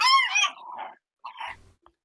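Dog barks from a World of Darkness: Vampire the Requiem game session, a loud, drawn-out yelping bark followed after a pause by a shorter, softer half-bark, close and clear.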